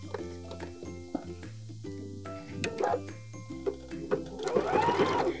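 A sewing machine edge-stitches around the opening of a handmade beanie, a close, steady mechanical whir with light clicks and small bumps in speed.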